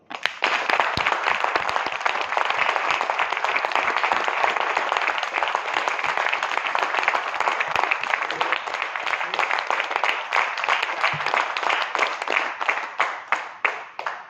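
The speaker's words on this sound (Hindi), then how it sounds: "एक बार जोरदार ताली।" Loud, dense applause from a crowd at a business training session, sustained and even for many seconds before thinning into scattered individual claps at the end, with faint voices underneath.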